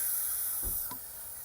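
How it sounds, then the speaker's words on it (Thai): Steady hiss of air escaping from a bus emergency door valve, a continuous rush that holds throughout with a faint thump partway through. "รอสักครู่จนสิ้นเสียงลมค่ะ"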